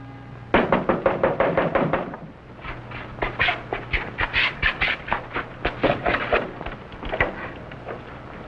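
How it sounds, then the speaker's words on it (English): A man raps on the wooden door of a mayor's house in two brisk bursts of sharp, close knocks, the first run quick and even, the second more spread out and uneven. "That man knocking on the door."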